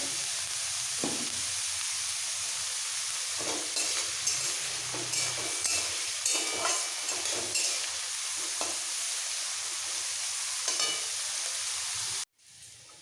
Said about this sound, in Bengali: গাজর বীজ হালকা ভাজা হয়ে গেছে